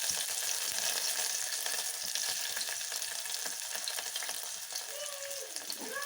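Crushed garlic frying in hot oil in a pan for a tomato sambar, a continuous close crackling sizzle with light stirring scrapes and a brief squeak near the end, with no one speaking.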